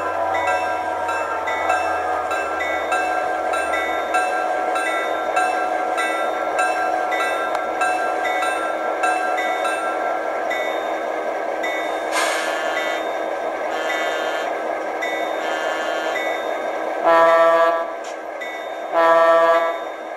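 An Athearn F7 model locomotive fitted with a Tsunami2 sound decoder sounds a steady multi-chime horn over a continuous diesel drone, with two short sharp horn blasts near the end.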